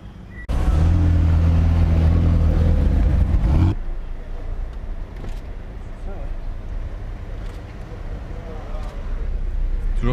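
A Ferrari sports car roars past loudly on a Monaco street during the Grand Prix weekend, its engine a strong drone for about three seconds before cutting off abruptly, leaving street hubbub and voices behind.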